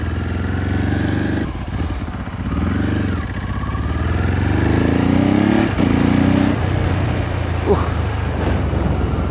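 A Ducati 999S V-twin motorcycle engine runs steadily nearby with a low, uneven throbbing idle, briefly rising in pitch before settling back.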